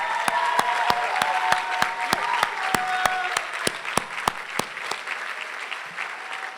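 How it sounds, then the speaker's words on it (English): An audience at a school graduation ceremony stands and applauds, steady crowd clapping with a few sharp, loud nearby claps in a regular beat standing out, fading slightly at the end. "Let's stand up and clap."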